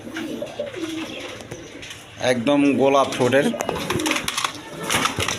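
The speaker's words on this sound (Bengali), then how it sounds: "এখানে এক পেয়ার হোয়াইট কিং কবুতর আছে" A pair of White King pigeons coo softly in low, rolling calls, close by, while someone talks over them.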